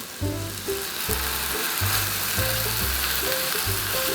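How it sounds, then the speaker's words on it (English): Vegan burger patties fry in plenty of oil in a pan, giving a steady, close, unbroken sizzle that runs the whole time, with soft low tones sitting underneath. "now let's cook up our burger patties"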